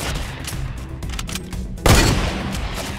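Fortnite gunfire crackles in rapid, fairly loud bursts, with a sharper, heavier shot near the middle followed by continuing shooting.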